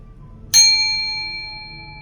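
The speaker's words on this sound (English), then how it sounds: "So I'm gonna do the first chime as always." A meditation chime struck once at a spiritual gathering, a sharp bright onset followed by a clear ringing tone that slowly fades over about a second and a half in a quiet room.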